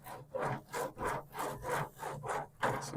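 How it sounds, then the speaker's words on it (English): A piece of onion scrubs rhythmically back and forth across a hot grill grate over coals, with about eight rasping strokes in steady succession and no talking. "I'm gonna take this other piece of onion and I'm gonna just scrub."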